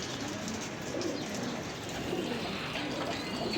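A racing pigeon coos softly and continuously at close range over a steady background hiss, with no speech.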